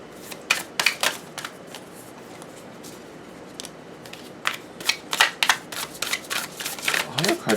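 Tarot cards are shuffled in hand, close, with bursts of quick riffling flicks and slaps that grow denser toward the end, and a voice speaks softly at times.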